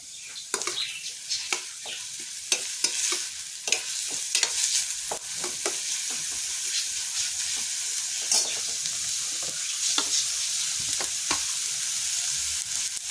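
Onion frying in oil in a pan for egg bhurji, a bright, steady sizzle close up, punctuated by frequent sharp spatula scrapes and clicks as it is stirred.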